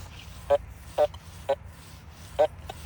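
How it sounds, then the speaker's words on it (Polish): Short, warbling electronic beeps from a Fisher F75 LTD metal detector, signalling thin foil rather than iron, repeat at irregular intervals, about five in a row, over a faint background hiss. "To nie jest dźwięk żelaza, to jest dźwięk cienkiego sreberka."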